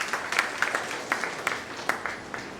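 A small audience at a spiritual seekers' retreat session in Mumbai claps, with scattered sharp hand claps rising over a soft, sustained patter of applause in a room.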